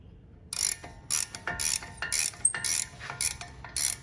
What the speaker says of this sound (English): I like to use a long handle ratcheting wrench